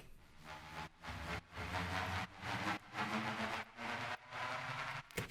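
Reverby synth riser built in Vital from saw waves and white noise: washy, roomy pulses of buzzy noise chopped into a steady rhythm of repeated swells, sustained and moderately loud with no voice.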